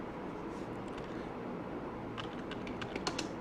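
Program code is typed on a computer keyboard, the soft key clicks faint against a steady room hiss, with a denser cluster of taps toward the end.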